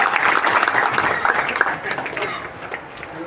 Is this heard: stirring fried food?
no